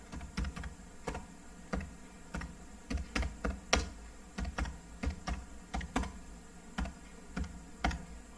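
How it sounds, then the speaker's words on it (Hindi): Rapid tapping on a mobile phone's on-screen keyboard, a steady run of sharp, close ticks and clicks in irregular bursts, heard alone with no voices. "ये आपको यहां से टाइप करना पड़ेगा।"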